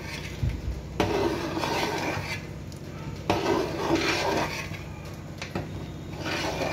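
Payesh being stirred in a pot, with steady scraping and rubbing of a spoon against the metal in repeated strokes, close and moderately loud, with no talk.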